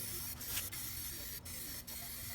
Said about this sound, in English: Enter the spray paint, which is in a lovely aubergine color.